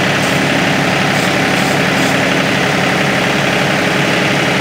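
A John Deere 2038R compact tractor fitted with a 220R loader runs its engine at about 1400 RPM, giving a loud, close, steady drone with a constant rumbling vibration and no voices.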